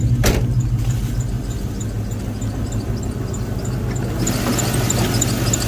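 A 2004 Trailblazer all-aluminum 5.3 V8 with a 700R4 transmission, fitted in a wagon, runs steadily at idle, a continuous low rumble with a faint rhythmic ticking above it.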